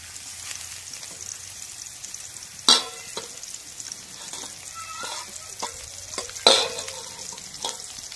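Garlic and onion frying in oil in a wok, a steady soft sizzle throughout with two sharp louder bursts as ingredients drop in, plus light scraping and clinks.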